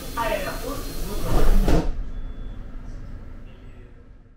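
Moscow metro train doors slide shut with a loud rushing clatter ending in a thump, then the hum fades as the train moves off.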